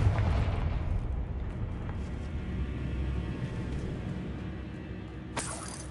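A Confringo blasting spell goes off in Hogwarts Legacy, a loud rumbling blast that rolls on for several seconds, then a short bright shattering crack near the end, with no talk.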